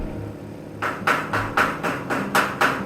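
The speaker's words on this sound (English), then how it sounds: "there's something called slag that has to be pounded off of your weld" A hammer chips slag off a fresh flux core weld, about seven sharp metallic raps in an even rhythm after a quiet opening, close and fairly loud.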